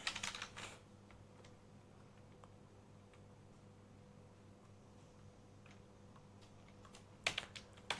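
Computer keyboard typing in a quiet room: a soft, sparse clicking of keys, with a brief burst of quick keystrokes at the start and another near the end.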